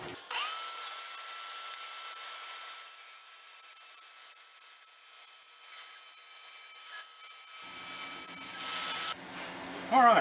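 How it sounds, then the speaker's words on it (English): A bandsaw slices through a wooden workpiece for a slot mortiser part, a steady, loud whining cut that runs for roughly nine seconds before the blade frees and stops, followed by a brief clatter. "I'm going to have to take my bandsaw and make a cut through here"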